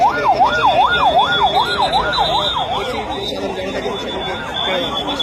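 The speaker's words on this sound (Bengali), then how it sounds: "দেখছি একটা অ্যাম্বুলেন্স বের হচ্ছে, একটি অ্যাম্বুলেন্স" An ambulance siren wails in a fast, regular up-and-down pattern, fairly close, fading out midway amid street noise and chatter at the scene of a plane crash in Uttara, Dhaka.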